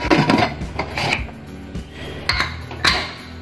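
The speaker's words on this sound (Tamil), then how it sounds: "இப்போ லிட் போட்டு மூடி வச்சிரலாம்" A metal lid is set onto a cooking pot of mutton curry, several clinks and scrapes of metal on metal in a short, close, uneven sequence, with no talking.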